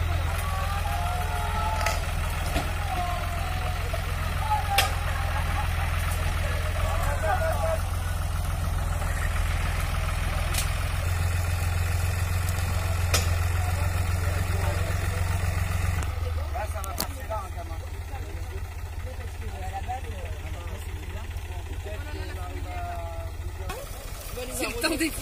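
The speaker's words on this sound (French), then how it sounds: "Donc là, ils accrochent le tracteur à la caravane pour la sortir du hangar" A tractor engine rumbles steadily at low pitch as it pulls a caravan out of a hangar, the drone easing slightly partway through, with voices in the background.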